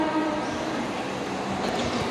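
A train rolls past with a continuous, dense rumble and rattle that holds steady throughout, loud and close.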